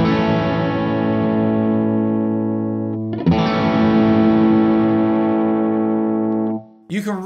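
An electric guitar runs through a Sunnaudio Nucleus pedal, holding distorted sustained chords while the tilt EQ sweeps, with a restruck chord midway and a brief noisy scrape at the end.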